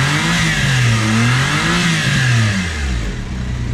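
A Suzuki DA64W with a 660cc P6A engine revs up and down close by, its loud engine note rising and falling in smooth sweeps over a steady mechanical hum.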